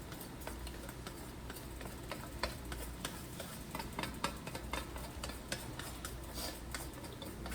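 Jollof rice being stirred in a pot while cooking, soft scraping and light clicking taps of the spoon at an irregular rhythm over a low background hum, quiet and close with no speech.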